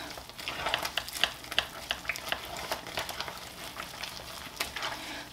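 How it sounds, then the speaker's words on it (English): Hot process soap scented with rosemary essential oil is stirred and scraped in a crock pot with a small spatula, making repeated soft wet squelches and scrapes in an uneven rhythm, close and fairly quiet, with no talking. "I love using these little spatulas to mix it around"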